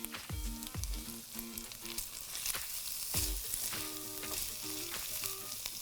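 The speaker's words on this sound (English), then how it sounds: "Just want to cook the green onion for a little bit." Green onion pieces sizzle in a hot pan with lamb, a steady frying hiss broken by sharp clanks and scrapes of a utensil stirring against the pan, heard up close and quietly.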